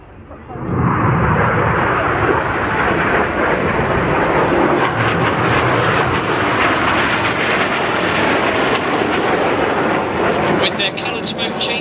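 Red Arrows jets roar overhead during an air display, Red 6 and Red 7 of the synchro pair, a loud continuous rushing jet noise that fills the whole stretch while a commentator speaks over it.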